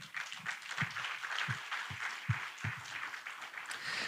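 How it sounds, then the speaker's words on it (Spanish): A church congregation claps in welcome of visitors at a Sunday service, a soft, even patter of many hands with a few sharper claps standing out. "la iglesia les da la bienvenida con un aplauso"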